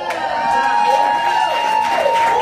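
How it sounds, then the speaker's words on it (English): Audience cheering and applause for a guitarist at a live music show, a loud sustained crowd roar with whoops, and a voice talking over it. "Y'all give him a round of applause."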